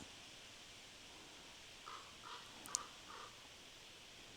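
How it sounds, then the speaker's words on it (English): A crow caws a few times at a distance, faint short calls spaced over a couple of seconds against a steady hiss of outdoor background noise. "Confirmation from the crow."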